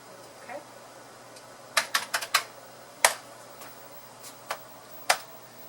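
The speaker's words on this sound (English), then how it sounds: "This keyboard's got some problems." Keys on a faulty Commodore 64 keyboard are pressed in short irregular clusters, producing crisp, close clicks with pauses between them over a faint steady hum.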